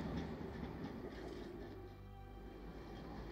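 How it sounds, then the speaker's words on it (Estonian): Tram running along Laikmaa street in Tallinn, a continuous low rumble of wheels on rails with faint clatter, steady and moderately close in an outdoor street setting. "aga Laikmaad mööda tuleb jälle üks tramm"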